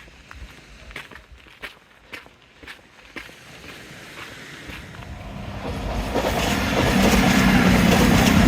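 A passing train at the seaside in Teignmouth on a damp day. Faint clacks and footsteps come first, then a rumble swells steadily into a loud, close roar that fills the end.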